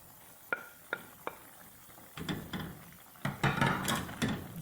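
Potatoes and capsicum frying in a pan, opening with a few sharp taps of a spoon on the pan, then scraping and stirring over a soft sizzle that grows louder toward the end.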